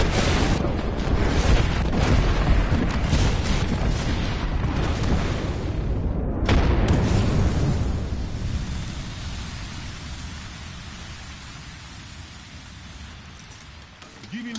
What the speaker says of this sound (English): There is an airstrike inbound.